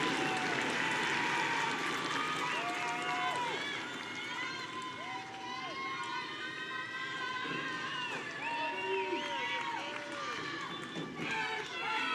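At the Lehman High School 2020 graduation, an audience applauds the graduating class with sustained clapping and scattered whoops and cheers, steady and crowd-wide.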